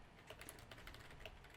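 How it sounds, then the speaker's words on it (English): Quiet, steady typing on a computer keyboard, with soft rapid key clicks at an even pace, close and alone with no talking. "Maz, I'm typing a message to you"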